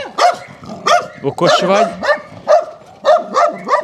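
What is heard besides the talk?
beagle dog barking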